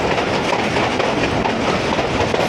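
Allama Iqbal Express passenger train running at speed on rail tracks between Lahore and Narowal, a loud, steady rumble and roar of wheels on rails, heard close with no break.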